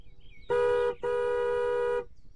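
Two sustained car horn blasts, the first a short honk and the second held for about a second, loud and close, with quiet background before and after.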